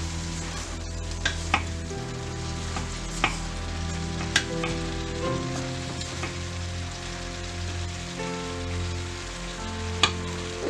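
Baguio beans, carrots and ground pork sauté in a pan with a steady, close sizzle, broken by occasional sharp clicks and scrapes from stirring, heard without talk.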